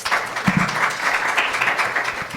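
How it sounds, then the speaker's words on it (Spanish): An audience at an academic panel on transport infrastructure and urban change applauds to welcome a speaker, with steady, moderately loud clapping throughout. "bienvenido y un aplauso, doctor"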